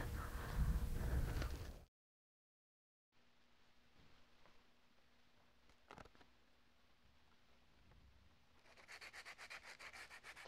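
Sandpaper rubbing over primer coats on a high power rocket body, a soft steady scratching that runs for several seconds at low level, with a brief louder burst at the start and brighter strokes near the end.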